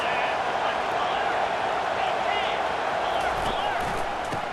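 Crowd noise fills a basketball arena, a dense, steady roar of many voices, moderately loud and unbroken, with occasional louder shouts near the end.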